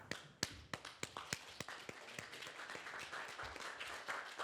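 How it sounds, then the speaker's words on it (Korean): A lecture audience applauds as the speaker comes forward. Scattered claps start unevenly, then build into looser sustained clapping from a moderate-sized crowd heard at a distance. "우리 이 단장님을 매실 때 여러분들 잠깐 일어나서 큰 박수로 맞이해 주시기 바랍니다."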